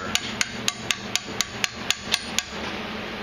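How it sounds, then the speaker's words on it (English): A socket is hammered to seat a motorcycle fork seal, giving about ten evenly spaced, crisp metallic taps that stop partway through, with no voices over them. "Just tap it down in there, keep going around to try to keep it square."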